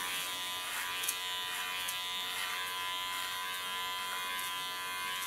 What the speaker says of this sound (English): And now I can work with my clipper. Okay, coming to my clipper.